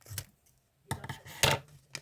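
Scissors snip through Hello Kitty surprise blind-bag packaging along a printed line, giving a few short, close crisp cuts with a distinct louder snip near the middle, separated by brief quiet gaps.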